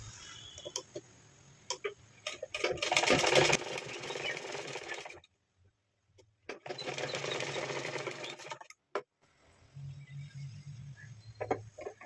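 A sewing machine stitches the front darts of a blouse, its rapid mechanical ticking running in bursts of a few seconds with short pauses between runs, close and fairly quiet, with no talking.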